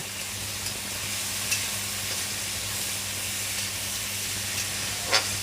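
Garlic, ginger and onion frying in a pan, giving a steady, even sizzle and hiss with a faint stir or clink near the end and no talking.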